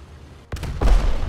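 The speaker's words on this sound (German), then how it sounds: "Den Schuss habe ich jetzt wiederum von dir sehr deutlich gehört." A sharp, heavy tank cannon gunshot boom in the video game War Thunder, followed by a second rumbling blast, close and loud over a low background hum.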